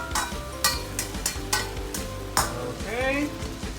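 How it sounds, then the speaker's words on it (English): Sabah Tuaran mee noodles sizzle and hiss in a hot wok while being stir-fried and tossed, with repeated scraping clanks of a spatula and a brief rising squeak near the end. "this is the stir frying part"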